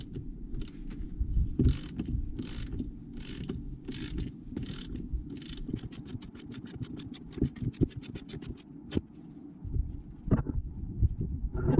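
Hand-operated spring compressor tool squeezing the front strut coil spring of a BMW E90/E91/E92: loud, close ratcheting clicks in steady bursts, turning into a rapid even run of clicks, over metallic grinding and scraping.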